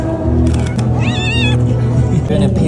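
A street cat in Essaouira, Morocco, gives one wavering meow, close and clear, in the middle of a busy outdoor scene where people talk over a rumbling background.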